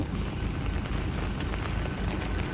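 Steady rain pours in a video game scene where a fuel truck arrives, a dense hiss with low rumble running evenly through the whole stretch, with no talk over it.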